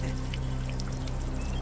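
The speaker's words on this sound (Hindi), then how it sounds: "देख क्या रहा है, पानी डाल" Water is poured in a steady, close splashing stream during a tense scene in a Hindi-dubbed South Indian action film, with low background music running beneath and no talking.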